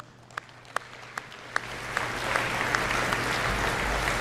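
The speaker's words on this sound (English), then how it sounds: "And we're going to applaud him." Audience applause at a doctoral and master's degree graduation ceremony, starting with a few sharp isolated claps that quickly swell into steady, sustained clapping from a large crowd in a hall.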